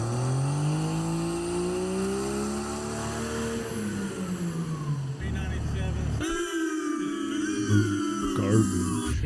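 A truck engine revs hard on a hub dyno, a loud sustained drone rising and falling in pitch, then cutting sharply before surging again with mechanical whine.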